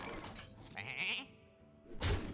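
Sheep bleating in the Hearthstone video game, a short wavering bleat in the middle of the clip between duller thunks and a sharp impact at the end, with no talk.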